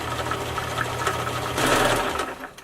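A sewing machine winds thread onto its bobbin with a steady close-up mechanical whir and low motor hum, rising and getting a touch louder near the end before cutting off.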